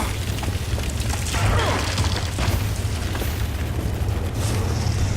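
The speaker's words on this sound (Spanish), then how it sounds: "Está la explosión." Explosion in The Witcher 2, a loud sustained rumbling boom with crackling debris, dense low roar filling the whole stretch, with faint voices underneath.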